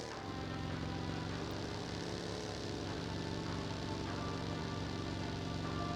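An aircraft engine in PUBG Mobile drones with a constant, moderate hum, steady and unbroken from start to finish.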